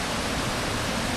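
Broad, steady rush of a river stream flowing at the Fairy Pools on the Isle of Skye, a constant close wash of water with no breaks and no voices.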